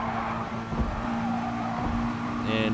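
Racing cars in GT Sport at a Tokyo circuit, including a McLaren, engines howling at a steady high pitch through fast esses with brief tire squeals and a passing whine near the end, no talk.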